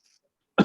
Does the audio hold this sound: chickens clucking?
no